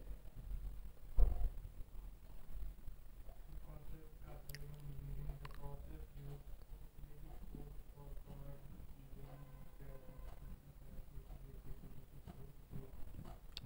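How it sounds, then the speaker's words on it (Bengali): Paneer in mustard paste is stirred in a bowl, producing soft, wet squishing and squelching sounds, faint and close, with a voice talking over parts of it. "এখন আমি একটু নাড়াচাড়া করে দেব।"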